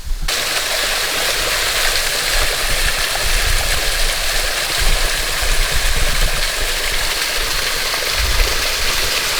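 Small waterfall in Shawnee National Forest: a steady broadband rush of falling water, close and constant throughout with no pauses, nobody talking over it.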